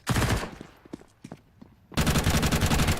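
Rapid automatic gunfire in Counter-Strike during a CS Asia Championships 2025 match: a dense loud burst, a stretch of scattered single shots and footsteps, then another sustained loud volley.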